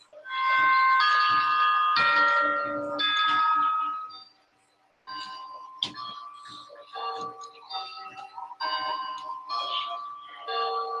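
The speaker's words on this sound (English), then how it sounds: "The grandfather clock, chiming the same song every time." A grandfather clock chime in a video game plays a bright, ringing melody of bell-like tones, one phrase, a short gap, then another, clear and prominent with no talk over it.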